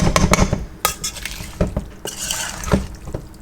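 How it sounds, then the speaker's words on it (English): Rough, brisk stirring of seasoned stew beef in a bowl for a Caribbean-style stew, with a spoon scraping and clinking against the bowl in uneven strokes, close and fairly loud, with no talking. "Rough stir, you guys, nothing crazy."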